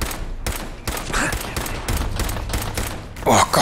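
Weapon fire in the VR shooter Fallout 4 VR: a rapid series of sharp, evenly spaced shots, roughly eight loud cracks close by, ending in a brighter burst.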